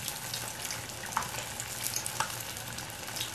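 Fish crackles and sizzles steadily in hot oil, with a couple of sharper pops, close and fairly quiet, no voices.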